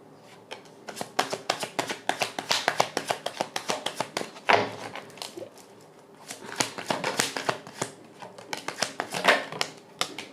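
A deck of tarot cards is shuffled close by in rapid bursts of crisp riffling flicks and taps, pausing briefly between rounds before resuming, with no talk over it.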